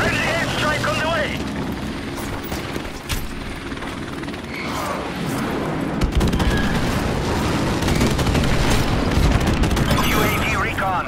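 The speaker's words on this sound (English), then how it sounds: "Friendly airstrike on the way." Dense, continuous battlefield din from Modern Warfare Remastered: rumbling airstrike explosions, rattling gunfire and mechanical noise layered together, loud and sustained for the whole stretch, with a voice speaking over it.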